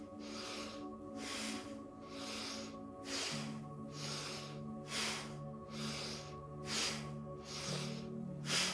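Fast yoga breathing, rhythmic forceful exhales through the nose about once a second, with soft music underneath.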